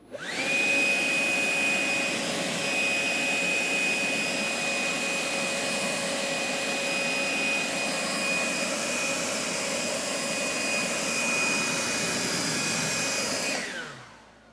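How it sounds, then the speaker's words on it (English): A forced-air blower drying a car freshly treated with a DIY graphene spray coating, a loud steady whine with a constant high tone running continuously for about fourteen seconds before cutting off, with no talking. "let's see how drying the vehicle with forced air with a coating like this, let's see how that would be"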